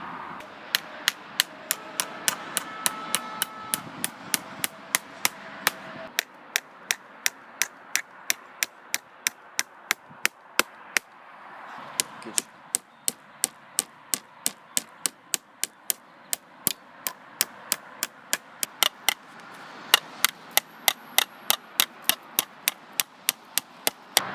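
Steady hammer blows drive nails into wood while building a warehouse structure, dozens of sharp, evenly spaced strikes in fast runs with brief pauses, close and loud throughout.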